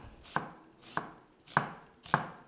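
Knife finely slicing an onion into thin slivers on a cutting board, four crisp, evenly spaced chops close up with no voices.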